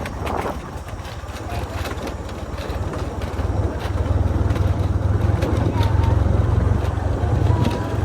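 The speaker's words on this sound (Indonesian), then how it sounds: "Ini udah mulai juga dikerjakan dengan motor gradernya." A motor grader's heavy engine rumbles steadily at close range during road widening work, low and continuous, growing slightly louder, with some background noise and faint voices.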